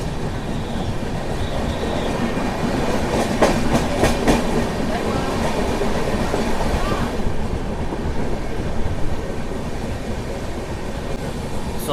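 A Ratnachal Superfast Express train runs between Visakhapatnam and Vijayawada, its steady rumble and rattling carriage noise continuous throughout, with a brief burst of clacking midway.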